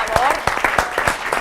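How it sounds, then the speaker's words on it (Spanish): Audience applause at a live finance event, a brief burst of clapping mixed with a voice talking over it, close and fairly loud. "un aplauso, por favor"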